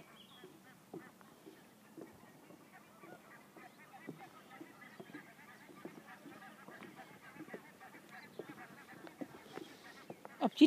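Geese honk repeatedly at a moderate distance by a lake, their calls scattered and overlapping over a steady outdoor background.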